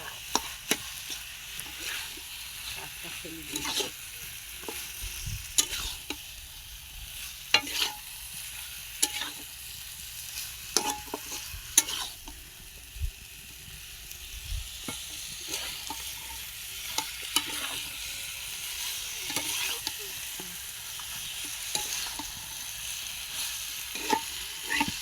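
Desi chicken meat stir-fried in a pan over a village fire, with a continuous close sizzle and frequent sharp scrapes and knocks of the ladle against the pan, steady throughout with no talking.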